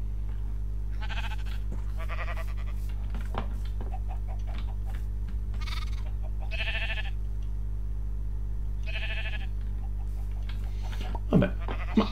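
Minecraft sheep bleat in repeated short nasal calls over a steady low hum of game background, several bleats spaced out and fairly close.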